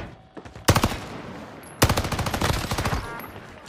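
Sten submachine gun fire in Call of Duty Warzone on Rebirth Island comes as two loud, rapid automatic bursts, a short one followed by a longer rattling stream.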